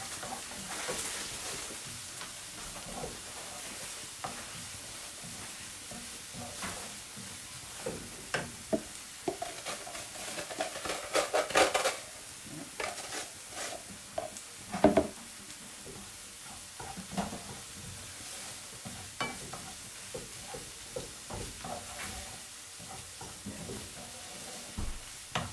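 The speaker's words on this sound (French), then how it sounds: "On mélange bien." A spoon stirs a mixture with chopped parsley in a hot pan while making Portuguese salt cod fritters. Irregular scraping and clacking strokes sound over a soft background sizzle, with a few sharper knocks along the way.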